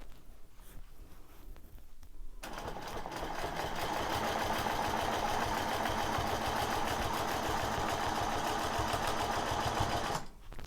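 A sewing machine stitches a square spiral quilting pattern in one steady, continuous run of rapid needle clatter lasting about eight seconds, starting and stopping abruptly, close and fairly loud with no talk.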